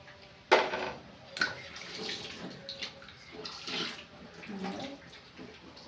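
Water splashes and trickles quietly as it is poured onto coconut for grinding a sardine curry paste, after a couple of sharp clunks at the start.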